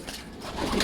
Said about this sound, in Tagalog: Ipit yung isa nating ibon, nag-aaway.